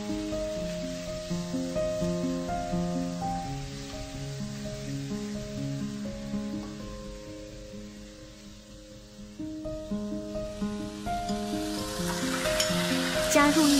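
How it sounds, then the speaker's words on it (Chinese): Assam fish, vegetables and sauce are stir-fried in a wok with a soft continuous sizzle that swells toward the end, partly under melodic background music. "接着通过继续翻炒，将鱼肉、蔬菜和酱料都能够混合得均匀些"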